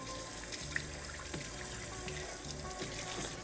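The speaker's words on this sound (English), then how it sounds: "We're just gonna use some warm water." Warm water runs steadily from a tap into a sink to rinse a cast iron skillet during restoration, a continuous close splashing hiss with faint clinks of the pan, and no talking.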